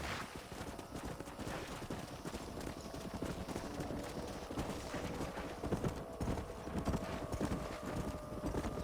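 Hooves clip-clop steadily in a dense, busy rhythm, like several horses trotting, under a constant rumbling background, in the video game Red Dead Redemption.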